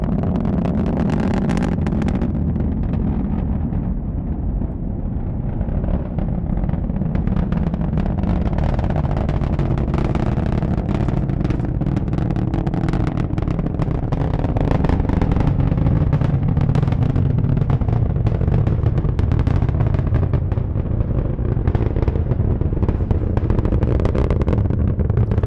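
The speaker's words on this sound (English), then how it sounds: "beautiful ascent of the Falcon 9 as it climbs up through the clouds tonight." Falcon 9 rocket climbing through clouds at night on a Starlink launch, a continuous deep rumbling roar that holds steady and loud throughout, with crackling bursts riding on the low thunder.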